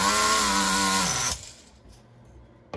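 Nitro HPI RS4 RC car engine with a sleepy clutch spring screams at high revs for about a second, then cuts out abruptly to a quiet idle-like near silence with a brief noise at the end.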